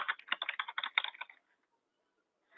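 Fast typing on a computer keyboard, a dense run of close key clicks for about a second before falling silent.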